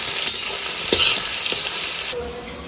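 Onions fry in oil over dried red chillies and nigella seeds, a continuous close sizzle broken by a few stirring scrapes, with no talking.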